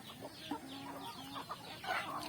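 Native chickens cluck and murmur in a flock, with repeated short clucks and chirps overlapping at moderate distance, no voices over them.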